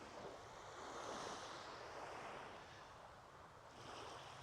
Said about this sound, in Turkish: Dalga sesleri size de ulaşıyordur